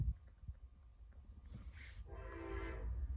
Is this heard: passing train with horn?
yes